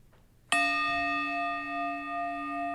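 A single meditation bell is struck once, a sharp clear strike that blooms into a long, steady, shimmering ring and sustains slowly across the quiet room, with a faint murmur just before it.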